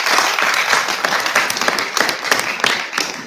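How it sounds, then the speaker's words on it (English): Workshop attendees at a school mathematics closing ceremony applaud the teachers, producing loud, continuous clapping from a close crowd with no speech over it. "All the teachers need a huge round of applause."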